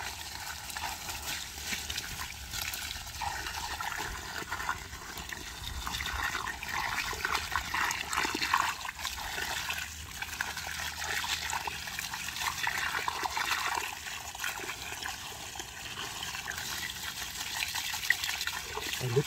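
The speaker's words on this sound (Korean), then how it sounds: "물로 캐니까 상처는 안 나서 좋겠네." A garden water hose sprays into soil to loosen and dig up purple sweet potatoes, a steady hissing gush with trickling and dribbling water, moderately close, continuing evenly without speech.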